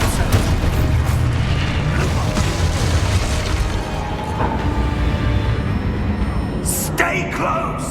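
Spell explosion from the Exposo charm in Hogwarts Legacy, a dense rumbling blast in the middle of continuous battle noise, with a sharp bright crack near the end.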